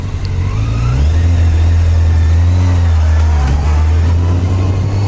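A car engine revs loudly and close, its low drone rising and falling in pitch through a few throttle swells, continuous for several seconds with nothing else over it.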